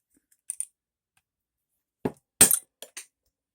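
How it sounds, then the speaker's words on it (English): Miter shears snip through a candy cane, producing a few sharp, close clicks and a brittle snap, with short pauses between them and no talking. "I'm going to cut it with my miter shears here."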